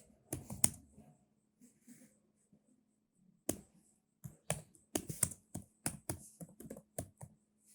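Bursts of clicky typing on a computer keyboard, with quick key presses clustered into uneven runs between short pauses, close and fairly quiet, with no talking.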